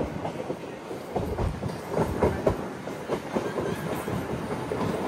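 A MEMU passenger train runs on rails near Tenali, with steady rumbling wheel noise and rhythmic clickety-clack over track joints, fairly loud and close throughout with no talking.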